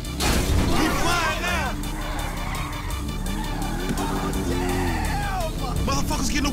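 Loud motorcycle engine from the video game GTA 5, a big 140-cubic-inch bike, revving and shifting continuously with rising and falling pitch, mixed with tire noise, under excited overlapping talk.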